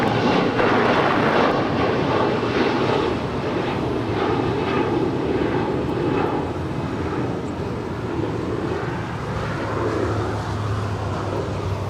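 An airliner takes off from runway 25 right at Los Angeles International Airport, its jet engines giving a loud, steady, broadband roar that holds close and strong for the whole stretch with no voices over it.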